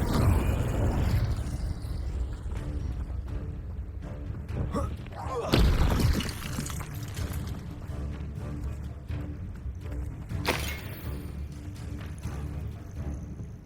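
Fiery spell blasts go off in the Hogwarts Legacy video game, muffled booms and crackling bursts with a couple of sharper explosive hits standing out over a rumbling background.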